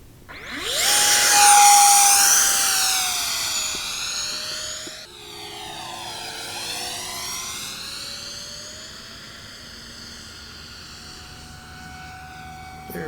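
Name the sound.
Xane MiG-17 50mm RC EDF jet flying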